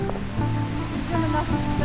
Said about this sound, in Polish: a tutaj jest taki wodospad